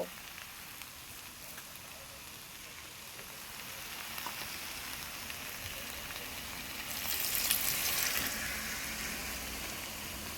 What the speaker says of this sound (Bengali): এই পর্যায়ে আমি অল্প জল দিয়ে দেব।